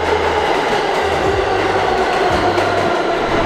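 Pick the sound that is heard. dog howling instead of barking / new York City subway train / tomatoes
new York City subway train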